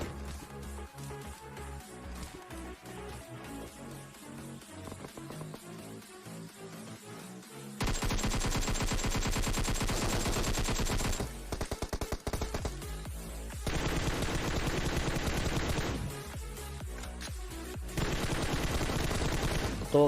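Gunfire in the mobile battle royale game PUBG Mobile, rapid automatic bursts of shots in dense rattling volleys, loud and close, with a quieter stretch of scattered shots before the heavy firing starts.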